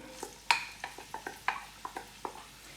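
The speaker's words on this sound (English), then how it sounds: "Heat your oil in a cast iron pot and then add your onions." Onions sautéing in hot oil in a cast iron pot, with a string of light metallic taps and clicks from stirring at an uneven rhythm over a soft, quiet sizzle, close by.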